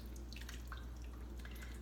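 Vegetable stock poured into a pot for vegan chili, with a faint, continuous liquid trickle and scattered drips and splashes, soft and close, over a low steady background hum.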